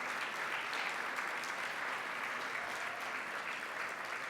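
Steady applause from a sizeable audience, evenly sustained throughout and heard from some distance.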